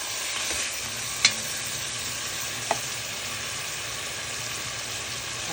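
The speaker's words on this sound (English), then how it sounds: "Fry this up nice." Ingredients for Guyanese cook-up rice frying in a pot, a steady close sizzle with a couple of sharp clinks from stirring, no talking.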